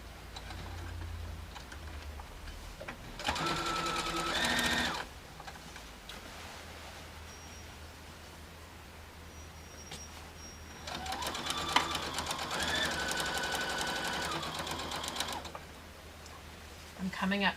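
Two bursts of a sewing machine stitching a zig zag quilt binding, fast steady whirring runs with a pause between, close by, with quiet talk in the pauses.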